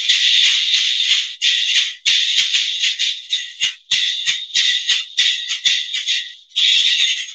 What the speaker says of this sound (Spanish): Resulta que un día me encontré una bola de Navidad de un árbol de Navidad gigante y pudimos hacer la maraca,